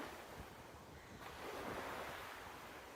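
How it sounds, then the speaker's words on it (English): Steady ocean surf rolls onto a sandy beach, a continuous broad wash of waves that swells slightly midway, with a light wind rush over the microphone and no voices. "You hear the steady sound of the waves."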